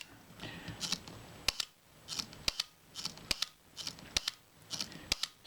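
Compur Rapid leaf shutter, freshly cleaned and lubricated after its blades were heavily oiled, firing repeatedly: about a dozen crisp, snappy clicks in an irregular rhythm, close up and loud against a faint background hiss.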